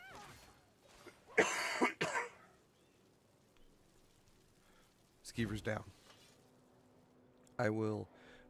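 Three separate bouts of harsh coughing and throat clearing, close and fairly loud, spaced by quiet pauses of a few seconds in an otherwise still room.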